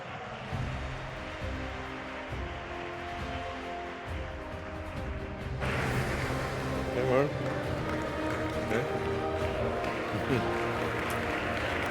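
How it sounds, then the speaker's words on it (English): Audience applause and crowd noise welcoming Elon Musk on stage at a spotlight event, a steady wash of clapping that swells louder midway and continues under talk. "Please, a round of applause."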